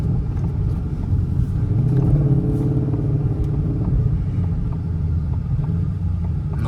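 Deep, steady rumble from a 2021 Ford Mustang Shelby GT500 engine, continuous and fairly loud throughout with a slight swell partway through, no voices.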